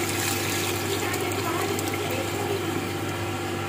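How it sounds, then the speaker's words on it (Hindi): Water pours steadily into a pot of potato mutton curry as it cooks, a continuous close rushing splash with an even level throughout. "अब हम इसके अंदर पानी शामिल करेंगे।"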